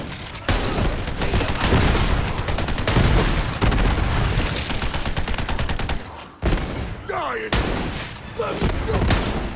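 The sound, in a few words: gunfire in video game Borderlands 3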